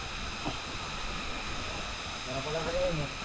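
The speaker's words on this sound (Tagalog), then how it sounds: "ilog, kuliglig. Yun lang maririnig mo." A river stream flowing at a hillside adventure park campsite, steady soft rushing water under a high continuous insect drone, with faint voices talking in the background.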